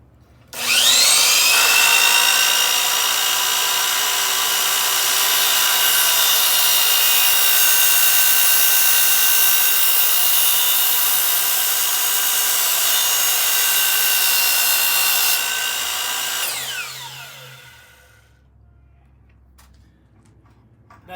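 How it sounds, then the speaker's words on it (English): A power saw made for wood cuts through aluminum with a loud, sustained high-pitched metallic whine that holds steady for about fifteen seconds, then winds down as the blade spins to a stop. "I cut slow because when you cut metal in a saw that's, you know, made basically for wood"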